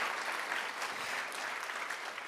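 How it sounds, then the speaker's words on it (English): A conference audience at an Erste Group event gives a short burst of steady, dense applause lasting a couple of seconds. "so big applause to the team"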